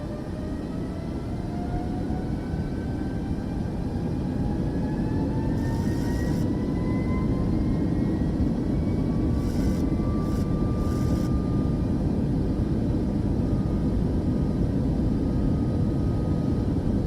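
Airliner engines spool up for takeoff roll in Microsoft Flight Simulator 2024, a steady loud rumbling roar with rising whining tones and a few faint clicks over the top, no talking.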